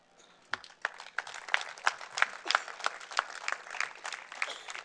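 Scattered hand claps at the closing session of a conference, starting sparse and quiet, then building into a steady patter of individual claps from a modest audience, heard from a distance.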